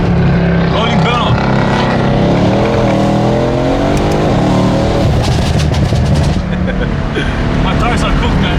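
A BMW F80 M3 drift car's engine and exhaust rumble loudly close by, its pitch rising and falling with revs and crackling burbles, while people talk over it.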